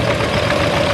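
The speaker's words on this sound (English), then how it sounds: "1962 Farmall 460 with a 311 plow on it" A 1962 Farmall 460 tractor fitted with a 311 plow runs steadily at a plow day, its engine giving a loud, continuous mid-pitched drone with a constant whine and no talking.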